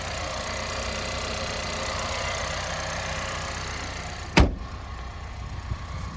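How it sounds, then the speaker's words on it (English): Hood of a 2023 Ford Explorer ST-Line popping open with a single sharp near clunk, over a steady low background hum that fades slightly afterward. "Gonna pop the hood."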